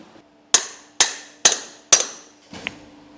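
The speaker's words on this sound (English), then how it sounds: "I'm gonna grab my hammer real quick and we can press that in" Four sharp, evenly spaced hammer blows ring out close by as a seal is driven into a boat trailer hub, followed by a lighter fifth tap.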